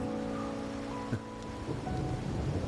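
Steady rain falls in the Wuthering Waves video game, with a soft low rumble of thunder and a brief crack partway through, under faint sustained musical tones.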